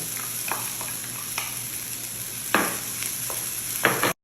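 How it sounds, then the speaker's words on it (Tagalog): Sliced onion fries in a little oil in a pot, a steady close sizzle broken by a few sharp bursts as it is stirred, with no talking. "Nilagay ko dito sa ako yung pot at nilagyan ko siya ng konting oil. At ngayon i-add ko na itong hiniwa kong onion."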